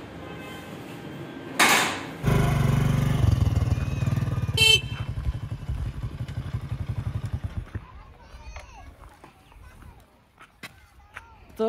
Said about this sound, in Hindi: मोटरसाइकिल में घर लेके आ गया हूँ